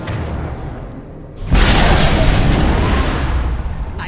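A Mass Effect 2 video game explosion: a fairly quiet background is broken by a sudden loud boom, followed by a long, roaring rumble that fades slowly.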